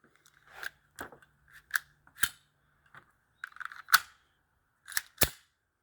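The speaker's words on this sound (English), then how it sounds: "That one chambered." Metallic clicks and clacks from a Taurus GX4 pistol being cycled to chamber rounds, a series of short sharp snaps spaced irregularly, close and fairly quiet.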